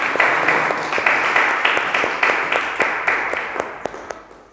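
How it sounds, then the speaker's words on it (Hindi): Church congregation applauding indoors, a dense, steady patter of many hands clapping together that holds for several seconds and tapers slightly toward the end, with no voices over it. "जोरदार तालियां मारेंगे उनके लिए।"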